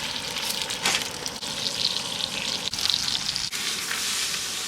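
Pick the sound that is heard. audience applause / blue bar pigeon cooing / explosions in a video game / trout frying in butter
trout frying in butter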